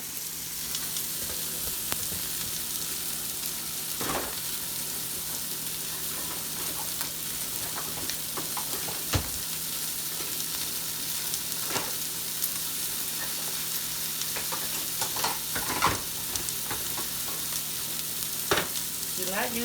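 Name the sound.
steak frying in a pan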